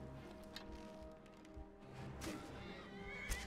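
A horse in Skyrim whinnies quietly amid low game ambience, with a few soft hoof thuds and faint rustling; the sound stays distant and subdued throughout.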